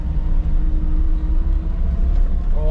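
A Lada Niva rumbles off-road on a first rough outing, a steady low engine drone heard from inside the cabin, loud and continuous throughout.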